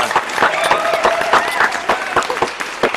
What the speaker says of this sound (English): a well-deserved round of applause from our audience